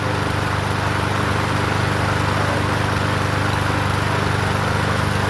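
A Murray 21-inch push lawn mower's small engine runs at a steady, even drone, loud and close, with no change in pitch.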